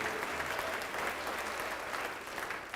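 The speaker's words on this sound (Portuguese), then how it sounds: "Vamos aplaudir mais ao nome de Jesus" Church congregation applauding during an evangelical service, a sustained, even wash of many hands clapping at once, fairly distant and diffuse with no breaks.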